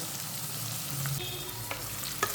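Steady sizzling of onions frying in a pan, with occasional clinks of a spoon stirring, no voices.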